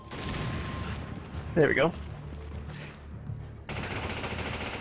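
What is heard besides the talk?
gunfire in the video game Resident Evil 5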